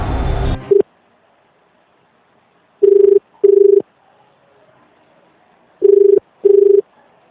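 A telephone call to a state election commission office rings back twice in pairs, two short electronic ring bursts, a pause, then two more, loud and clear over a silent line after a brief voice at the start.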